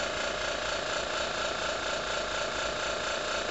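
An electric motor spins at low speed under test on an open-source AC motor controller. The hum is steady, even and broadband, close by and moderately loud, with no talk.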